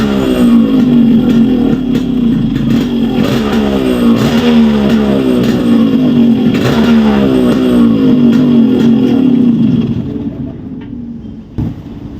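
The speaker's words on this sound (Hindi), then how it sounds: "अभी हम बाइक को स्टार्ट करके देखते हैं।" A Yamaha RX 135 motorcycle engine runs steadily after carburetor cleaning, loud and close, with a throbbing, rising and falling rev, then drops to idle and cuts out near the end.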